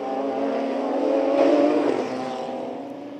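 A Radical race car at Jerez, its engine droning steadily as it passes close by in a single smooth sweep, swelling then fading, without talk.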